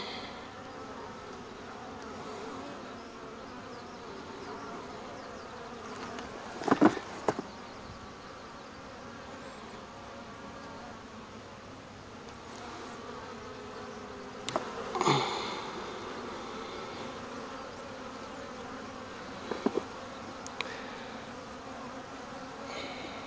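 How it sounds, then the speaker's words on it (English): A dense, steady buzz of many bees fills the space inside a hive with brood, where bees are dying, with occasional knocks and rustles close by. "there's a lot of bees in here still."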